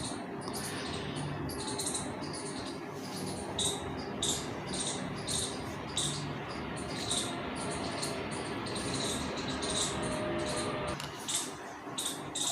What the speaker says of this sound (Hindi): पीछे अभी मेरे चिड़िया बोल रही है, आप सुनिए इसको.